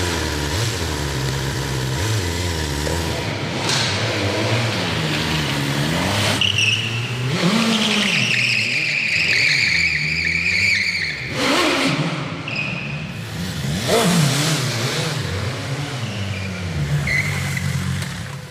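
A BMW G310R entry-level naked motorcycle engine revs loudly and close, rising and falling through several strong throttle blips with a sustained droning tone between them, heard without talk at a live debut event.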